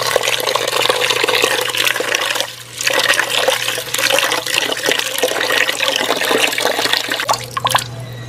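Water pours steadily and loudly into a pot of rice, a continuous close splashing rush with a brief dip midway, no voices over it.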